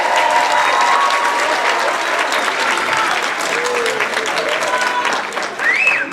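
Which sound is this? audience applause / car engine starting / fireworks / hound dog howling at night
audience applause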